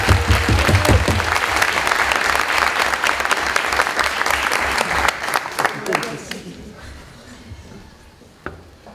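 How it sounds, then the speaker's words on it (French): At an eloquence contest final, a large audience gives warm applause to a contestant. Loud, dense clapping sustains for about six seconds, then thins into scattered claps and fades to near quiet. "Je vous demande d'applaudir chaleureusement la représentante d'Eltron Management"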